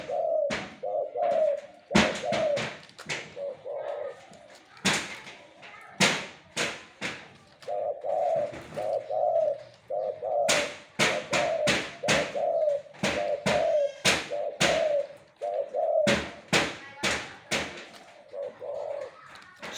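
A dove coos over and over in low, soft phrases, broken by sharp clicks and thumps nearby.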